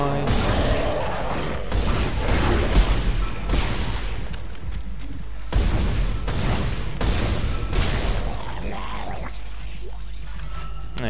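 A locked door in the Dead Space video game is overridden and grinds open with heavy mechanical clanks, booming thuds and hissing bursts in two loud surges.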